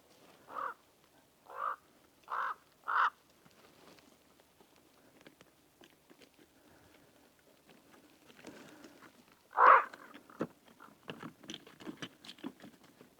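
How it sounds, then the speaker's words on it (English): Crows caw close overhead while swooping, four harsh calls in an even run, then after a quiet stretch a loud nearby caw followed by several softer caws and light pattering, with no talking. "I got these crows just buzzing me up here."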